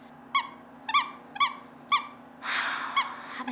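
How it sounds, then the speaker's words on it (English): A pet dog's toy-like high squeaks, five short sharp yelps spaced about half a second apart followed by a longer whining squeal, close by in a quiet room over a steady low hum. "Oh, you gotta squeak right now, Bobby."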